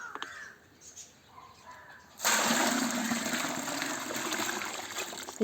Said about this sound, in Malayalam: ഇതിൽ വെള്ളം ചേർത്ത് നേർപ്പിച്ച് ഇനി ഇത് ഒഴിച്ചു കൊടുക്കാം